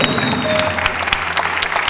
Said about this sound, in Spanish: Un aplauso para el maestro.